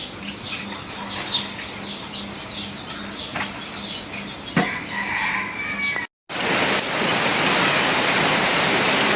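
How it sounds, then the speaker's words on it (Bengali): Rain patters steadily on surfaces outdoors during a gusty storm, first lighter with scattered drips and a few sharp taps, then cutting in suddenly as a louder, denser hiss. "বৃষ্টি কিন্তু বাড়তাছে"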